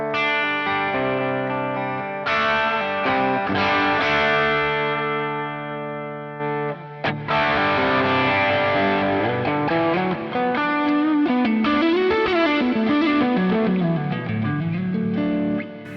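Electric guitar played through a Line 6 Helix preset blending a Dumble-style amp and a Fender Deluxe Reverb, sustained chords and lead lines with light drive, chorus and reverb, sounding alone and continuous.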